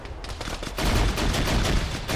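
Heavy gunfire in an ArmA ShackTac battle, including AGS grenade launcher fire, rolls on in loud overlapping bursts and booming impacts, building in intensity partway through and sustained without pause.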